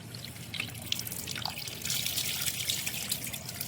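Goat head pieces for curry get rinsed with water, a steady running-water and trickling wash with small splashes and drips, fairly close and continuous, with no talking.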